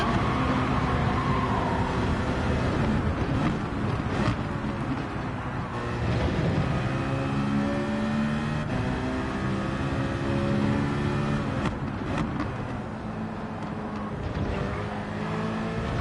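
A racing car engine in Gran Turismo 7, a seven-gear car, revs hard and climbs through gear changes with rising and falling tones, loud and continuous with no talking.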